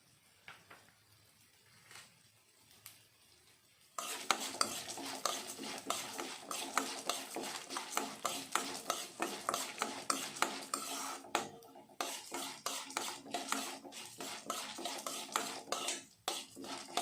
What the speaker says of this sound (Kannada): ಕಡಲೆಬೇಳೆ ಉದ್ದಿನಬೇಳೆನ ಚೆನ್ನಾಗಿ ಎಣ್ಣೆಯಲ್ಲಿ ಫ್ರೈ ಮಾಡ್ಕೊಬೇಕಾಗುತ್ತೆ ತಿರುಗಿಸ್ಕೊಂಡು